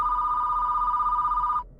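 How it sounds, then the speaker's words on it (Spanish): A telephone rings in a steady electronic tone for over a second and a half, then cuts off abruptly into quiet. "Una vecina les llama por teléfono"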